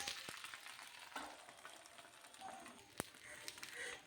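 Fish pieces coated in green masala fry in a pan over a slow flame, giving a soft, steady sizzle with small crackles and pops and a few brief clinks, all quite faint.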